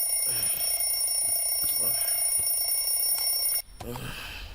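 An alarm clock rings with a steady high electronic tone for several seconds before cutting off abruptly, after which a voice speaks in a room.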